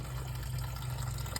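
Engine coolant pouring out of a removed lower radiator hose on a 2003 Toyota Highlander 2.4 during head gasket work, a steady close liquid splashing and gushing throughout, alone with no talk.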